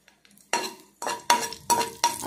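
Five dried red chillies frying in a pan, a few sharp utensil scrapes and clinks against the pan with light sizzling, coming in separate bursts.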